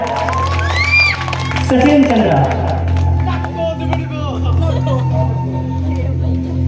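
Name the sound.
audience applause for the play's cast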